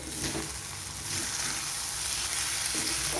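Green chili paste sizzles loudly in hot oil in a frying pan while cooking a banana flower dish, giving a steady, close hiss with slight swells as it is stirred.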